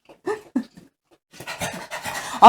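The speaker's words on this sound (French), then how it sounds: "Et si vous entendez haleter, ce n'est pas mon mari, c'est mon chien." A dog pants in a kitchen, quick close breaths in short bursts, followed by a denser stretch of breathy panting and a sharp loud burst at the end. A voice briefly exclaims once.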